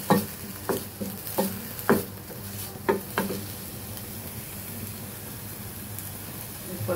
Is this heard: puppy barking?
no